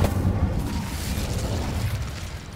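The Incendio fire spell going off in a video game, a loud fiery burst at the start that trails into a rumbling, crackling roar slowly fading.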